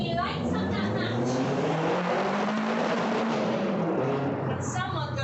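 A car engine revs outside in a steady, loud, continuous drone with rising and falling pitch, filling the whole stretch with no pause.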